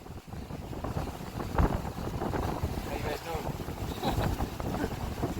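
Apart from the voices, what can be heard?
strong wind on the coast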